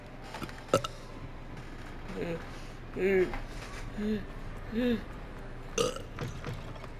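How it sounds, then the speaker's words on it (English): A character in the video game Hogwarts Legacy burps repeatedly, with several short croaking belches at uneven intervals that fall between clicks and faint game sounds. "Keep burping. Polyjuice potion's wearing off."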